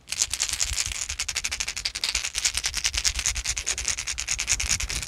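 A hollow plastic ABS Deps Radscale 111 fishing lure with an internal rattle is shaken hard, giving a rapid, steady clatter of sharp clicks for several seconds, close and loud.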